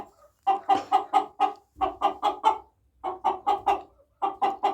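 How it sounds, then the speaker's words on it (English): A younger American Bresse rooster clucks close by in rhythmic bursts of four or five sharp, nasal calls, with short pauses between the groups. "so this is one of our roosters"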